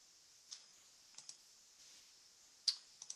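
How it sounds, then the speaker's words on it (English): Mouse clicks on a computer while designing real estate postcards in Canva: a few short, faint, isolated clicks spaced irregularly over a quiet background. "If you click on it, it'll just change it for you."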